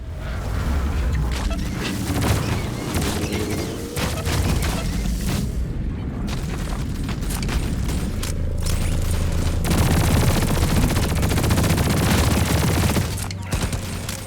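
Rapid SMG gunfire in the video game Deep Rock Galactic rattles almost nonstop for about fourteen seconds, loud and dense, with booming impacts and mechanical clatter layered through the steady barrage.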